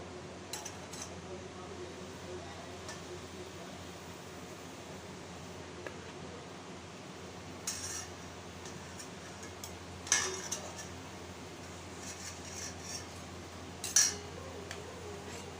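Balushahi sweets lifted out onto a plate, with a few faint scattered clinks of metal utensils against dishware over a steady low hum, two sharper clinks standing out near the end.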